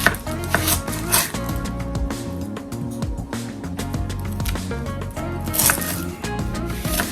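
Onion halved lengthwise and chopped on a cutting board, a rapid run of sharp, close knife taps in quick irregular rhythm with a few louder knocks, no talking.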